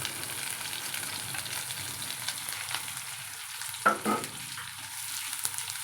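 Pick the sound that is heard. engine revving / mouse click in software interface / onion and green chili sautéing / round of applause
onion and green chili sautéing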